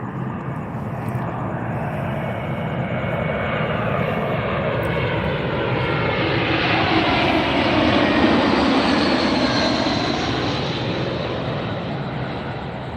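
A Southwest airliner arriving from Sacramento lands at Las Vegas airport, its jet engine roar building steadily and loud over about thirteen seconds, then easing slightly as it passes.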